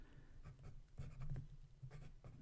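An Opus 88 Demo Twilight Sonata fountain pen scratches softly across paper in short, quiet strokes, with brief pauses between words and a faint, close-up scratchy texture.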